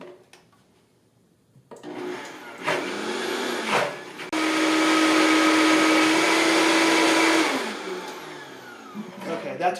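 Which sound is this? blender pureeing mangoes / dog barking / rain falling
blender pureeing mangoes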